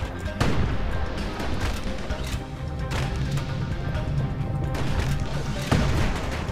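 Security skiffs in the game Bastion fire in a steady barrage of booming shots and crashing impacts under dense battle noise, with a couple of sharper blasts standing out.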